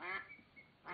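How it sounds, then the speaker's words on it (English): Ducks quacking loudly on a farm map in a farming game, a burst of calls at the start and another at the end with quieter calls between, no talk over them. "hopefully you can hear me over those ducks and chickens"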